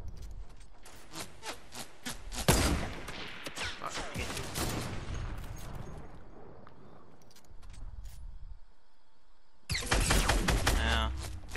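Rapid AK gunfire in Fortnite, loud sustained automatic bursts at the start, a quieter stretch, then another burst near the end, with players talking in between.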